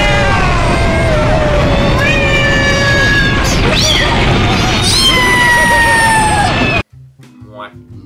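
A cat meows loud and close as a sound effect, giving drawn-out, wavering cries that pile on each other and go on for several seconds, then cut off abruptly.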